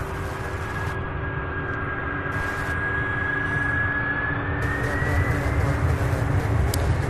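A UPS Boeing 767 departs Louisville International Airport bound for LAX, its jet engines giving a steady, continuous roar at a distance, with a faint rising whine over the rumble.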